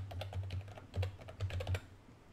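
Rapid, irregular keystrokes on a computer keyboard while entering text in Canva, close and crisp, with clustered bursts of clicks and short pauses and no voices.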